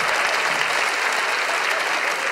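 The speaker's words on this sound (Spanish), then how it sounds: "Fuerte aplauso para ella." Dense, loud audience applause at a live comedy show, a full wash of many hands clapping at a constant level for the whole short stretch.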